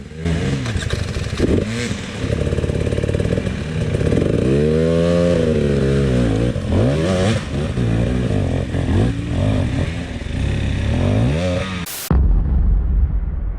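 A loud enduro dirt bike engine revs hard and rises and falls in pitch while climbing a line on Romanian terrain, close and continuous, then cuts off abruptly near the end.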